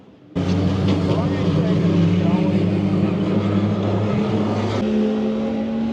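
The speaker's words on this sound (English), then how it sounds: "You hear them hit the floor and then re-accelerate back out." Race car at the Nürburgring 24 Hours braking into a turn and then re-accelerating out, a loud, sustained engine roar with shifting pitch, heard from trackside with background crowd noise.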